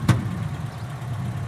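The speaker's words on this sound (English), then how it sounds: "you could see and hear it's super nice and smooth and equilibrated engine." A restored Peugeot 505 SR engine idles smoothly and steadily, a low even hum heard up close after a brief sharp click at the start, with no voices.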